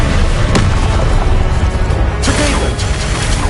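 A Confringo fire-blast spell from Hogwarts Legacy on PS5 erupts in a dense, loud booming burst, with a sharp crack early on and a second surge of noisy energy near the end over constant rumbling game audio.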